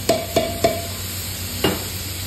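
Ginger garlic paste fries in a pan for a ghugni recipe, with a few sharp stirring clatters over a low sizzle, close and alone without talk.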